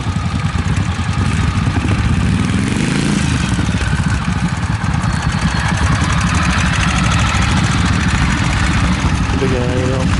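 A big motorcycle idles at a New Year's Day trials event on a lane, its engine a steady, loud, low rumble that continues throughout. Voices and outdoor background noise mix with the engine.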